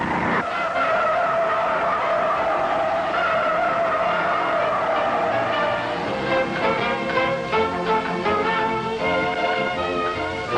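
Tires of a 1969 Chevrolet Impala squeal loudly and continuously as the car skids through a hard corner with heavy understeer, the sustained screech riding over steady engine and road noise for the whole stretch.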